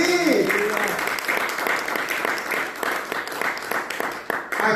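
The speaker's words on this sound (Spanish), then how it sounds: "¿Por qué no le damos fuerte aplauso a Dios?" Congregation in a Spanish-speaking house church breaks into a loud, dense round of clapping that fills the room, with voices mixed in beneath the applause.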